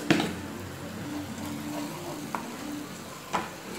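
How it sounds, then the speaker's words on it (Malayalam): Soy sauce, chilli sauce and ketchup being mixed in a sizzling pan for Manchurian gravy, giving a steady low sizzle with a few soft spoon scrapes and taps; no talking. "ഇതെല്ലാം കൂടെ നന്നായിട്ടൊന്ന് മിക്സ് ചെയ്യുക."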